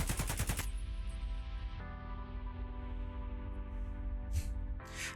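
An AKM rifle firing in the video game Escape from Tarkov, a rapid burst of full-auto shots at the start followed by ringing tails and a couple of later single loud reports.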